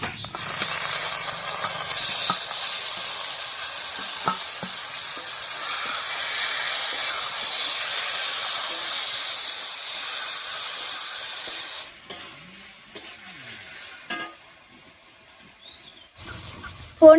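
Taro leaves dropped onto frying onion, garlic, green chili and dried fish, raising a loud, steady hiss of steam and sizzle that fades after about twelve seconds, followed by quiet clinks and faint background sounds.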